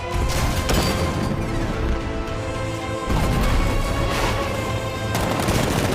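A tank's 60mm cannon firing in the video game Batman: Arkham Knight, loud and continuous, with heavy overlapping blasts and rumbling impacts over a sustained musical drone.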